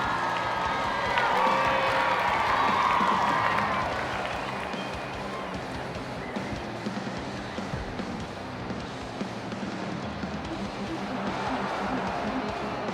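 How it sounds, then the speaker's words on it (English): Video game crowd at a Rugby League 26 match between Sea Eagles and Warriors roars after a try, loud and sustained at first, then settling into a steady stadium murmur. "That try sends the home crowd crazy."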